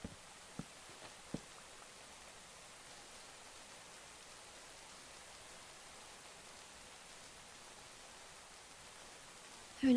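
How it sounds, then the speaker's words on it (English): Soft, steady rain falls as a faint, even hiss, with a couple of sharp drip taps early on and a brief louder bump at the very end. "listening to the rain"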